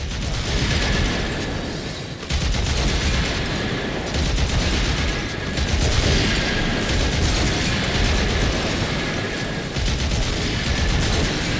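Dense, continuous mechanical clatter and booming gunfire-like blasts from a reactor core being exposed and destroyed in Warframe, loud and sustained, with bursts and brief dips throughout and no talk.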